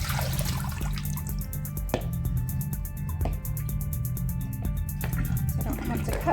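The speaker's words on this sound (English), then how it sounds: "I've already cut a whole bunch of carrots. So I'm just going to rinse them off real quick." Tap water runs steadily over a batch of cut carrots being rinsed, a continuous close splashing rush with small drips and clinks mixed in, while a voice speaks faintly underneath.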